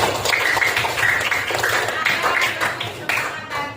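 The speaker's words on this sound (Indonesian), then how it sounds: "Oke, tepuk tangan dari kita semua." Class of schoolchildren clapping hands together in a classroom, a dense, steady patter of many small claps running throughout, with voices and background noise mixed in.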